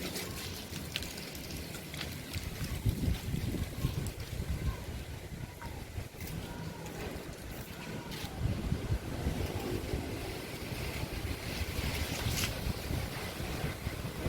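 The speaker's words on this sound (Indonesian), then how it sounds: "Ya, lumayan anginnya kuat" Strong gusting wind before a storm in Sintang, shaking trees under dark clouds, roars steadily and close with broadband rushing and mic buffeting throughout, over a low rumble.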